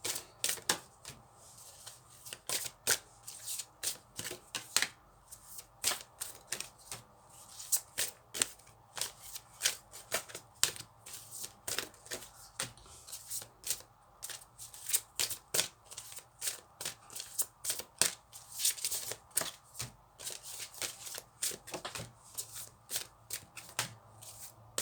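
Playing cards handled and flipped face up during a tarot-style reading, a steady run of crisp card snaps and shuffling slaps, close and fairly loud, with no talking.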